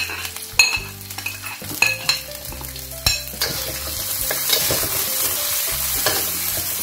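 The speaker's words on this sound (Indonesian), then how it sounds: "Nah kita tumis ebi ini ya bisa lebih wangi kalau misalnya kita rajin kasih bawang merah ya" Garlic and dried shrimp sauté in a pan for a Medan-style bakcang filling, giving a steady, close sizzle with repeated scraping and clinking of a utensil against the pan throughout.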